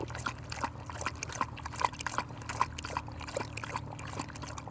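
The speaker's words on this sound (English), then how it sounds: "you get to hear the dog lap it up." A thirsty dog laps water at an outdoor historic fort site, giving a steady run of quick wet slurping pulses close by over a low rumbling background.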